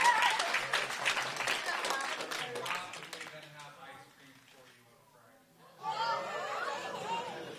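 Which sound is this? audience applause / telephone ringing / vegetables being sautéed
audience applause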